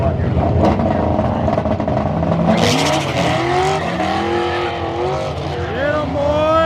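Turbocharged SOHC Dodge Neon on drag slicks racing a Mustang down the strip, a loud rising engine roar with tire squeal and shifting pitch sweeps as the cars accelerate, with someone talking over the noise.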